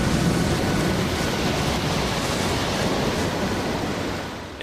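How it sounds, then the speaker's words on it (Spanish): Rough, stormy Atlantic sea surges around a small boat at sea, a loud continuous roar of crashing waves and wind-blown spray that fades slightly toward the end, with no voices. "El Atlántico está tan embravecido"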